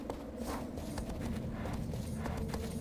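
Rhythmic hoofbeats of a horse moving steadily across ground in Shadow of the Colossus, continuous and moderately close over a low ambient game backdrop.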